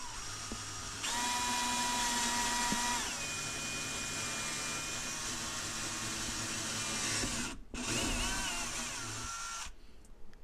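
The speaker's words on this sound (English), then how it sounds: "I'm going to use a 1/4-inch drill bit to drill through here" A power drill with a 1/4-inch bit whines steadily as it bores through a drain pipe, pitch shifting slightly, then stops briefly and restarts before winding down.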